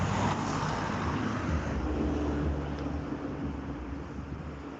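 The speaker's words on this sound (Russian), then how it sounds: "Откуда эти машины появились?" Cars pass along a road in a steady wash of traffic noise, a low rumble with broad tire hiss that slowly fades slightly over time, with no one talking.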